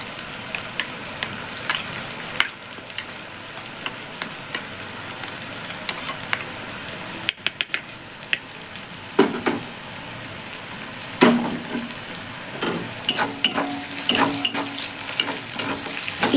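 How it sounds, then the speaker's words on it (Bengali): A spoon stirs ground cumin mixed with a little water while cooking in a pan, making quiet scattered scrapes and light clinks, with a few brighter taps and soft sizzling toward the end. "চামচ দিয়ে গুলে নিচ্ছি।"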